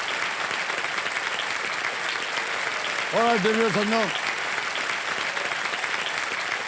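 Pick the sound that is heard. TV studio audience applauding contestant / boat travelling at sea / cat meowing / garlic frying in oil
TV studio audience applauding contestant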